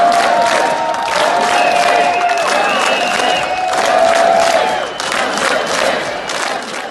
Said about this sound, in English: This is the reception that workers from the Minsk metro got from crowds outside when they walked off the job.